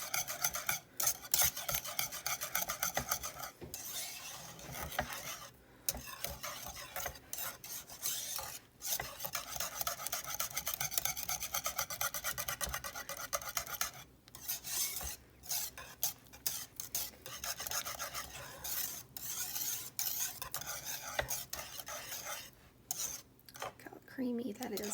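A spoon repeatedly scrapes and stirs a thick chocolate pie filling in a pot while it melts, producing a continuous soft rasping rub with brief pauses, close and fairly quiet.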